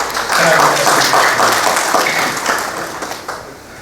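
Audience clapping at a road safety speech in a police lines hall, a dense burst of applause that is loud at first and then thins and fades out over a few seconds.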